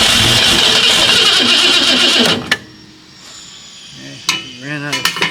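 The Fastang car's engine fires on a second start attempt and roars loud and close for a couple of seconds, then abruptly cuts out, leaving a few knocks and quieter rattling sounds.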